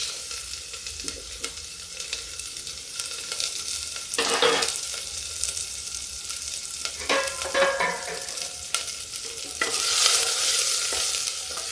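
Ginger, garlic and onion hit smoking-hot oil and fry with a steady, bright sizzle, stirred now and then with a spatula. Louder bursts of crackling come as the pan is stirred, and there is no talking.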